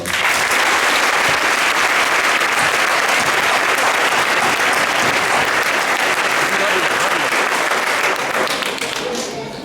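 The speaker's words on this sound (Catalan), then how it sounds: "Per tots ells, un fort aplaudiment, sisplau." An audience at a school Christmas concert gives loud, dense, sustained applause that stays steady throughout and tapers slightly at the end.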